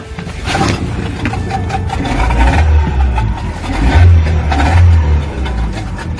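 A Whaly 435R boat's outboard motor, a two-stroke, runs steadily after starting, a close, rough mid-pitched drone that rises and falls slightly in intensity.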